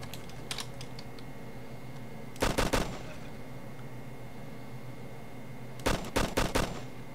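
Two short bursts of automatic gunfire aimed at soldiers in ArmA: Red Hammer, each a quick string of four or five sharp cracks, moderately loud over a quiet ambient background, with a fainter pop early on.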